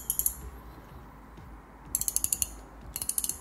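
The drag on a Teben Polar Night spinning reel, a lightweight budget model, gives three bursts of rapid, crisp ratcheting clicks close up, separated by quieter mechanical whirring, with no talking.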